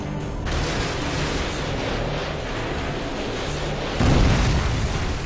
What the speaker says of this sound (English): AGM missile is online.